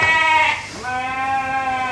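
Sheep bleat loudly and close on a farm on sales barn day, one drawn-out wavering call fading before another long bleat follows, with no talk.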